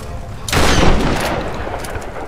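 A grenade launcher in Tomb Raider fires with one loud, close boom and a long rumbling decay. Faint game ambience continues after it, with no talk.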